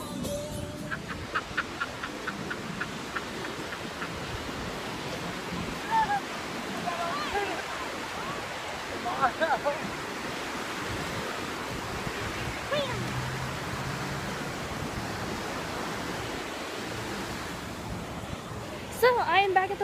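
Ocean waves wash steadily onto a beach in a continuous surf roar, mixed with gusty wind buffeting the microphone and a few faint voices in the background.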